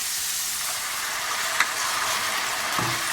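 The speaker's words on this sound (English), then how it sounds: "So I'm going to add the marsala now" Marsala wine hitting hot mushrooms in a pan, a loud, steady sizzle and hiss with a faint clink of stirring midway, close and without talk.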